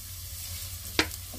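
Garlic and onion are dropped into a hot pan for lomi, setting off a sudden bright sizzle that flares loudly, then settles back over a steady low kitchen hum.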